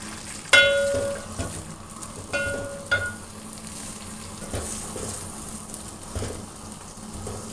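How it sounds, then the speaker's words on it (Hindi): Onions drop into hot ghee in a pan for a bhindi dish, a sharp burst of sizzle followed by crackling spatter and a few metallic clinks, close and with no talking. "अब मैं प्याज डालूँगी।"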